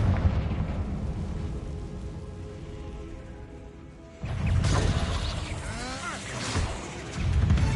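Confringo blasting-spell explosion in Hogwarts Legacy: a loud burst and rumbling crash midway, following a steady roar, with sparkling debris trailing after, then another blast near the end.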